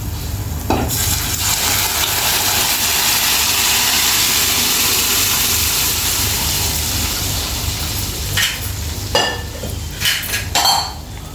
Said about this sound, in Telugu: ఈ పప్పు ఇప్పుడు ఇందులో వేసేసుకుందాం